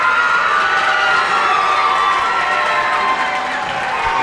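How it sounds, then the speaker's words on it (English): Basketball fans of Audubon give loud, sustained sarcastic applause and cheering in a crowded gym during a 1998 girls playoff game against Sterling, a steady crowd roar for the whole stretch. "Sarcastic applause here by the Audubon fans."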